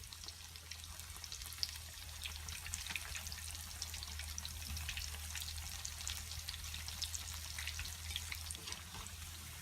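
Prawn vada frying in oil over medium heat, a faint, continuous bubbling sizzle with light crackles over a low steady hum, no voices.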